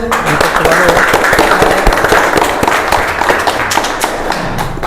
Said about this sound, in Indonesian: Mungkin bisa tepuk tangan dulu ya.